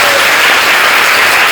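A church congregation at a community worship service bursts into loud, dense applause, with many hands clapping together close by and no break in the sound.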